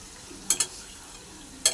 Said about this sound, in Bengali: এবার এটাকে একটু নেড়ে দেবো